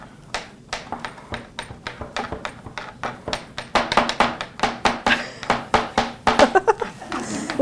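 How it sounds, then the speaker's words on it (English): A knife chops mushroom stems on a board, rapid steady strokes close by that quicken and grow louder toward the end. "we are going to chop up our mushroom stems"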